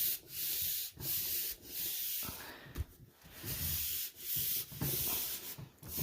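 Paper rubbed firmly over a folded drawing of bugs to transfer the lines, steady rasping strokes repeating close by in long sweeps with brief pauses between, no talk.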